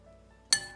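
A spoon clinks once against a pot while grated cheese goes into boiling corned beef, a single bright metallic ring close by with a short fading tail over quiet background.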